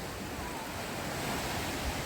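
Black Sea waves wash steadily onto the shore at Odesa on a calm day with a slight tide, a dense continuous surf hiss filling the whole span with no pauses and no voices.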